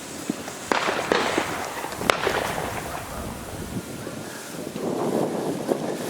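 Several sharp gunshot cracks ring out early, spaced irregularly, with wind buffeting the microphone and rustling in between, during a fox hunt with hounds.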